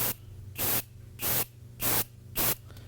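A Paasche airbrush sprays paint at 38 pounds of air pressure with a medium spot. Five short, even hissing bursts come close and loud, separated by brief quiet gaps.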